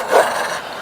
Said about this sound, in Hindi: ये हिमालयन शेफर्ड के हैं कुत्ते, इनसे बचना आसान नहीं है